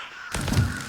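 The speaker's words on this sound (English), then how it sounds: "Then we hear crows again." A single crow caws in the video game Vigor, a short harsh call rising abruptly out of a quiet ambient background and fading after about half a second.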